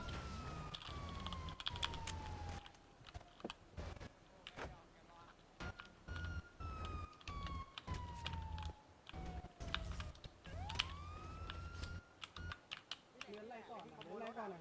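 Police siren in the FiveM GTA roleplay game, a wailing tone sweeping down and rising again at moderate level through most of the stretch, mixed with keyboard clicks, game noise and voices talking.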